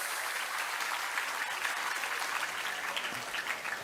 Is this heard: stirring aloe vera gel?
no